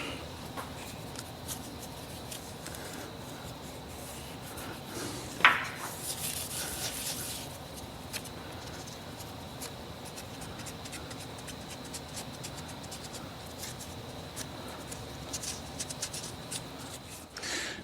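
An applicator rubs dressing onto the tires of a Porsche 992 GT3 Touring in soft, quiet scrubbing strokes, with one sharper scrape partway through.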